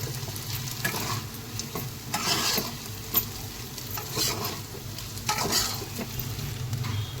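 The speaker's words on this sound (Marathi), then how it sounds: "आता ह्या सर्वाला चांगलं असं एकत्र मिक्स एकजीव करून घेऊया" Sabudana khichdi is stirred and mixed in a pan, with a soft sizzle under repeated rhythmic scraping strokes of a spoon against the pan.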